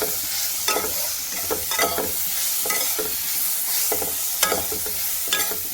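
Ash gourd with ginger and cumin stir-fries in a pan, a loud continuous sizzle with repeated rhythmic scraping strokes of a spatula every second or so; no one speaks.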